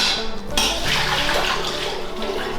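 Milky rice-soaking water, left after 30 minutes of soaking Japanese rice, pouring steadily away as one continuous broadband splash close by, with no talk.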